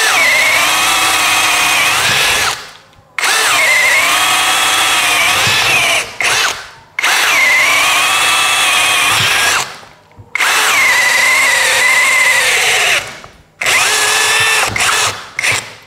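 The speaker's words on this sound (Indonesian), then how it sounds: "torsinya sudah cukup kuat untuk pengoboran mata bor auger 16 mm." A DOLIZ BD636 12V brushless cordless drill boring with a 16 mm auger bit whines loudly and steadily in long bursts, five runs of a few seconds each separated by brief pauses, close to the listener.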